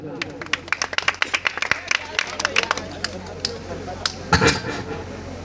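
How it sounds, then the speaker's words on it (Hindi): A crowd at an Ambedkar Jayanti gathering claps for a speaker in loud, separate claps, with murmuring voices in between and a brief burst of fuller applause near the end. "मैं चाहूंगा भैया के लिए जोरदार ताली हो जाए, जोरदार ताली"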